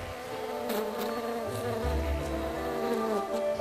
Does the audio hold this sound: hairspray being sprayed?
no